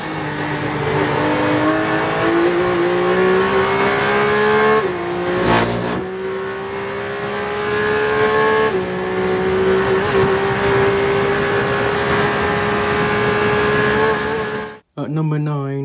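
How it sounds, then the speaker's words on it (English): Porsche 911 GT3 RS 992 with the Manthey Performance Kit at full throttle around the Nürburgring, a loud, steady high-revving engine wail climbing through the gears with brief shift breaks, then cutting off abruptly near the end. "we slide over to Stuttgart with the Porsche 911 GT3 RS, equipped with the Manthey Performance Kit"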